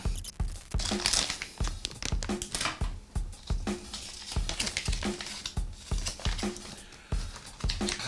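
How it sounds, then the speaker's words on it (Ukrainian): Plastic packaging of a Sonic Prime toy figure crinkles and crackles up close as it is torn open, in steady rustling bursts with sharp snaps, no voices. "Пакування те ж саме, тож відразу переходимо до розпакування"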